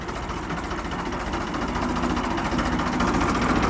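A Ford 3600 tractor engine runs with a steady low rumble and vibration throughout, close and continuous, with no voices.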